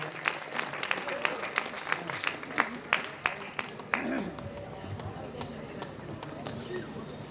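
Scattered audience clapping at a church annual program and Christmas gathering, a series of sharp claps over a low murmur of voices, tapering off in the final seconds.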